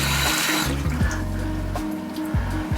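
Vegetable-scrap stock splashes and trickles steadily as it is poured into a stew pot, a close, continuous watery flow with no voices.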